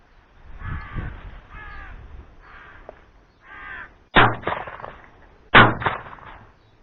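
Several crows give harsh, repeated caws at a moderate distance during a corvid control hunt, and then two loud, sharp gunshots follow about a second and a half apart, each with a brief echo.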